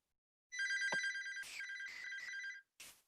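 A telephone rings in a series of bright, trilling bursts during an online school committee meeting, loud and close, with short pauses between rings and no talking over it.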